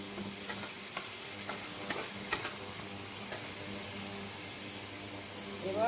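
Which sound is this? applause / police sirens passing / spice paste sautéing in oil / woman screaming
spice paste sautéing in oil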